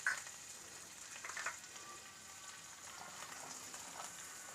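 Cumin and mustard seeds sizzle faintly in hot oil for a bean and carrot curry, a soft steady crackle with a few light spatters, heard close and quiet.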